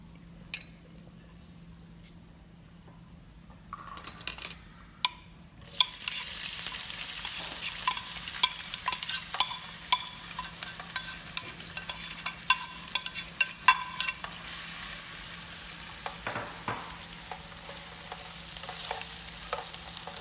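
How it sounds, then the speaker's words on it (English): Chopped onions hit hot oil with bay leaves, a cinnamon stick and cloves for a coconut egg curry. A bright, steady sizzle starts abruptly and continues, with occasional clinks of a stirring utensil. "Then we're going to add onions in here."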